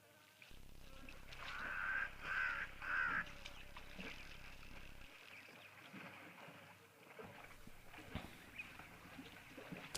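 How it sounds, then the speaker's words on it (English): Cape crows give harsh cawing calls in an open landscape with zebra nearby, several rasping caws close together early on, then quieter ambient rustles and knocks. "A couple of Cape crows still around and still giving us a rather ominous call."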